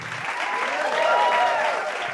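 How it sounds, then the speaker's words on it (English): An audience at an anniversary concert breaks into applause, a steady, moderately loud round of clapping lasting a couple of seconds with a faint murmur under it. "And I got applause for becoming a vegan today."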